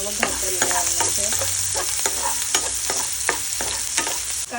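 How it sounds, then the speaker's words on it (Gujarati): Onions fry in hot oil with asafoetida and turmeric, giving a steady bright sizzle. Repeated scraping strokes of a stirring spoon against the pan come through clearly, close up, with no talk. "ત્યારબાદ એમાં આપણે કાંદાનો વઘાર કરી લેવાનો છે."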